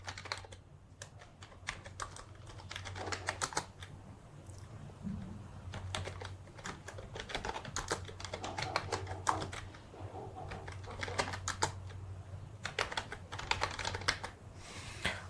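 Keys clatter on a computer keyboard in close, uneven bursts of rapid clicks with brief pauses between them, quiet and without voices.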